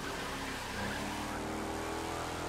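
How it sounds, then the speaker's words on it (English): A Chrysler 300 SRT8 limousine in the racing game The Crew 2, with a steady engine drone that shifts down into a deeper, rumbling note, loud and close with no talking. "So downshifting actually worked pretty well."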